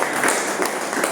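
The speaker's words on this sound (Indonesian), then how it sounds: "tepuk tangan buat teman-teman" Classmates in a classroom clap together, a brief, close burst of dense, bright applause with no voices over it.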